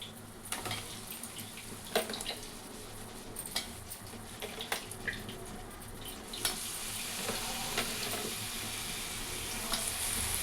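Chicken pieces for a curry land in a hot pan and fry with a loud, continuous sizzle, broken by scattered sharp spits and clatters of stirring.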